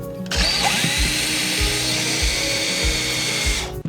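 A power drill runs continuously for several seconds, close and loud, while a loft bed is fastened to a back wall in a tiny home. The motor's whine holds steady under rhythmic low knocks as the screw drives in.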